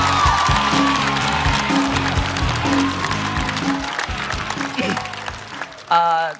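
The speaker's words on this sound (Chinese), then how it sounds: "下面我们用热烈的掌声" Audience applause breaks out at a comedy show as a comic is invited onto the stage, loud clapping running under stage music and voices, then fading near the end.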